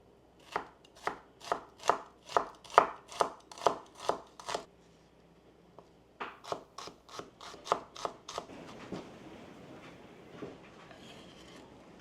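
A knife finely dices shallot on a cutting board: a run of about ten crisp, evenly spaced chops, a short pause, another quicker burst, then softer scraping and rubbing on the board.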